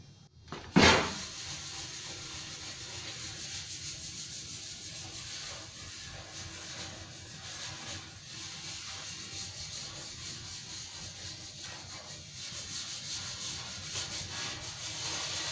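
Extra fine steel wool scuffs fresh paint on a John Deere 111 Jr pulling tractor, opening with one sharp knock and then settling into a long, steady, hissing rub that keeps an even level throughout.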